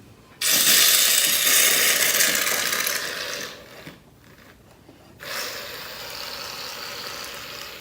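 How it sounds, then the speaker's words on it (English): Shaving cream hissing loudly from an aerosol can in a long spray, then a pause and a second, shorter and softer spray, close by with no talking. "So I'm gonna put in my shaving cream."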